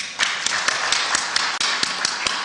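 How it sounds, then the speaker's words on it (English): Audience at a live public meeting clapping in unison to a slow, steady rhythmic beat, sharp regular claps about every quarter second, loud and close with no talk over them. "Okay, let's clap for him until he sits down."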